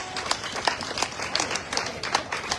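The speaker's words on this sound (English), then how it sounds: "Give them a big round of applause," Parade crowd at the Tombstone Rose Festival applauding the Rose Queen and her court, steady outdoor clapping with scattered louder claps, moderately close, with faint voices mixed in.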